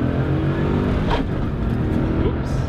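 Car engine running hard during a street race, a steady loud drone with rising harmonic tones as it gets on the throttle, continuous and close throughout.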